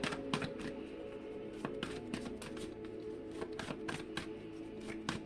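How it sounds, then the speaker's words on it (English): Playing cards are shuffled repeatedly nearby, a run of crisp riffling snaps and taps in quick bursts, with no talking. "And 3 more shuffles."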